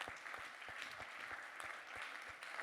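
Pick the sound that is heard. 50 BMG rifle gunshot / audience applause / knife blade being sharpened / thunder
audience applause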